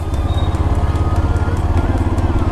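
A motorcycle engine revs steadily and loudly while the bike sits stuck in mud, a continuous throbbing drone with no pauses.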